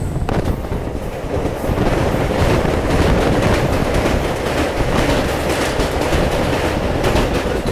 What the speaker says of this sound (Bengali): আমাদের ট্রেন পার করছে বীরভূমের মল্লারপুর স্টেশন